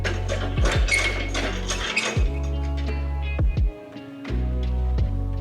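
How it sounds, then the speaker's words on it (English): Cranking an outrigger leg on a Kuzar K57 lift: repeated mechanical clanks and ratcheting clicks over a low humming drone, with short metallic knocks spaced about a second apart, nearby. "We want to crank the leg at least until the leg stops wobbling around."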